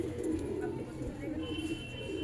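Pigeons of an old breed coo on a rooftop loft, a low soft throaty murmur close by, while someone talks over them.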